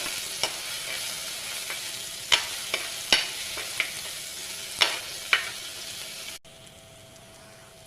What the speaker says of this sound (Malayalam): എണ്ണ ചൂടായിട്ടുണ്ട്, അതിലേക്ക് കറിവേപ്പിലയും പച്ചമുളകും കൂടെ ചേർത്ത് കൊടുക്കാം.